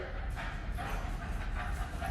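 A dog barks at its own reflection in a mirror indoors, giving short yips and bow-wow barks close by against a steady background.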